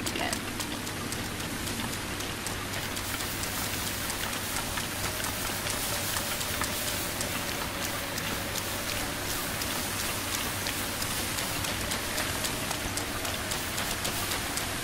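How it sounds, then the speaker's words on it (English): Steady rain falls and patters on surfaces for the whole stretch, an even wash of dense hiss with no breaks, and a faint low hum sits beneath it. "because it's raining"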